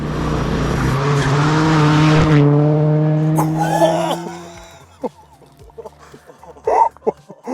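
Rally cars race past on a forest road, a loud harmonic engine roar that holds for several seconds and then fades into the distance, followed by scattered short knocks and gravel noises.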